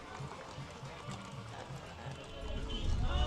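Horse hooves clip-clop on pavement as charro riders pass in a Mexican Independence Day parade in Joliet, Illinois, a steady rhythmic clatter that grows louder toward the end while a commentator speaks over it.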